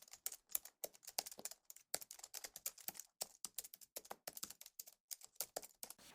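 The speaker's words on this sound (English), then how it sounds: "we'll start by typing the subject names" Rapid, irregular keystrokes on a computer keyboard during spreadsheet data entry in Excel, heard close and alone with short pauses between bursts of typing.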